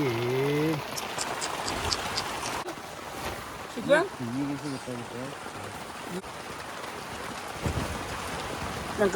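Heavy rain hisses and patters throughout at a night campsite, with voices talking over the downpour.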